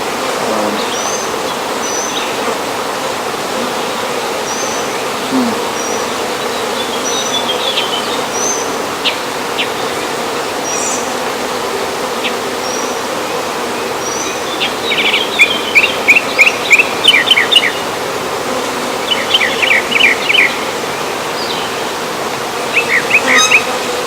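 Honeybees buzzing steadily around an open top bar hive during an inspection, a dense continuous hum with bird chirps calling in short bursts in the background.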